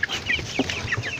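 Chickens in a coop at night cluck softly and repeatedly close by, with short overlapping calls in a quick, uneven rhythm.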